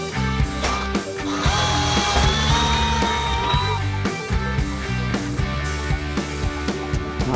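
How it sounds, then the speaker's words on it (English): A step drill bit bores holes in metal during fabrication, giving a busy whining, grinding drill sound with a steady motor tone, short pauses and clicks between cuts. "What I like about the step bits, obviously they're gentler when they cut as well"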